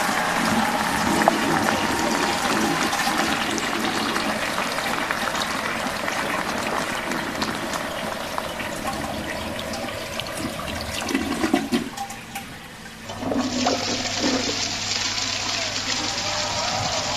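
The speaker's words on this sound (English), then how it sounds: "time for a toilet flush" A toilet flushes in a long rushing roar of water that swells near the end and then gives way to a faint refill hiss.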